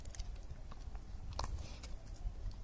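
A Bull Arab dog crunching and chewing a fresh snow pea, quiet repeated crisp bites close by with no talk over them.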